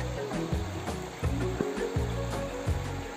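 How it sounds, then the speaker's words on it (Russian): Churning rapids on the Gauja river between Cēsis and Sigulda, a constant rushing wash of turbulent water with surging pulses, fairly near and heard alone. "Как воду крутит, смотри."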